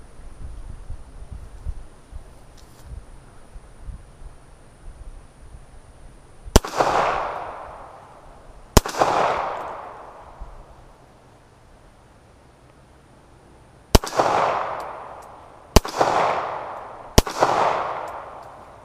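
Star BM pistol firing cheap steel-case range ammunition, five sharp loud shots, two well spaced and then three in quicker succession, each with a short decaying echo.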